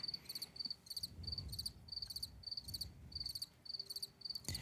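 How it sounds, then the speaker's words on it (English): Cricket chirping sound effect dropped in after a bad joke during a gaming podcast, a steady run of repeated high trilling pulses at even rhythm, fairly quiet and alone with no talk over it. "I'm gonna put a cricket sound there because your jokes are really bad."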